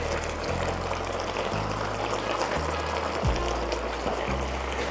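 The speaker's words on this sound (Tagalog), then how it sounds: "Maglalagay lang tayo ng tomato sauce." Tomato sauce is poured into a pot of beef kaldereta. It makes a steady gurgling, trickling pour with shifting low tones and faint background noise, and no speech.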